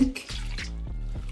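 Milk poured into a bowl for chocolate crepe batter, a short liquid gurgle and trickle heard up close, quiet and brief.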